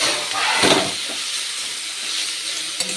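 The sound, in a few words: chicken sizzling as it is added to the frying pan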